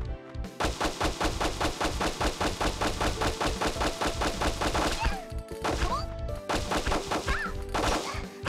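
Rapid bursts of rifle gunfire from the video game The Maid and Machine Gun, a fast even stream of sharp shots for about five seconds, then a few separate volleys with brief pauses between them.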